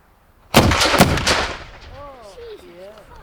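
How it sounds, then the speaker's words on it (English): An artillery battery fires at a military show: a quick series of loud, close booms within about a second, followed by a fading rumble and a faint voice. "Firing by battery!"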